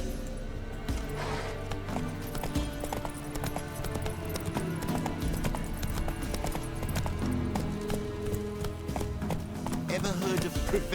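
Horse hooves clip-clop steadily in The Witcher 3: Wild Hunt, a continuous trotting rhythm under game music and ambience, with voices present.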